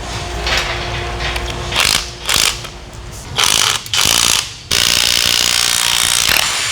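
An impact gun works on a Duramax diesel engine during a teardown, loud ratcheting bursts that stop and start several times before one long sustained run.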